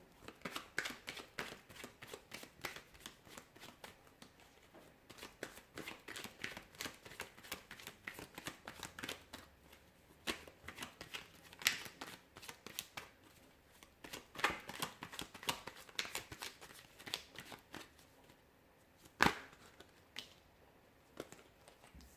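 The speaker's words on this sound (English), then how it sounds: "I will be shuffling the cards and we'll see what messages they reveal" Tarot cards are shuffled repeatedly, soft quick riffling and tapping in irregular bursts, close and quiet, with no talking.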